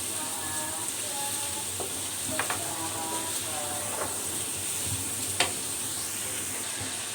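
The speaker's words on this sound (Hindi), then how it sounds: "अब हम प्याज को भी अच्छी तरह से सौते कर लेंगे।" Onions sautéing in a pan for an okra (bhindi) curry, a steady bright sizzle with occasional scraping and clinks of a stirring spoon against the pan, no voices.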